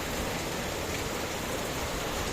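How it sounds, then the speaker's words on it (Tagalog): Heavy rain pours down in a dense, constant hiss of drops hitting surfaces, loud and unbroken throughout. "the rain is getting heavier and heavier again"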